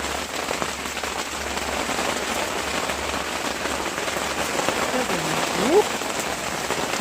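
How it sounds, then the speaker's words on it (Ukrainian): Heavy rain pours steadily and loudly, a dense hiss of drops on surfaces that continues throughout. "Лупив який дощ"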